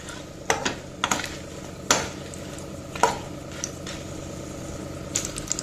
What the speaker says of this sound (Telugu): ఇప్పుడు దీనిలో మనము ఎండు మిరపకాయలు వలిసి వేసుకుందాం ఇవి మంచిగా వేయించుకోవాలండి డ్రై రోస్ట్ చేసినప్పుడే టేస్ట్ బాగుంటుంది